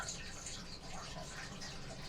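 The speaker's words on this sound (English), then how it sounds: "Okay, I'm pouring the water in for the pasta." Water runs into a cooking pot for pasta in a home kitchen, a faint, steady splashing trickle, quiet and close.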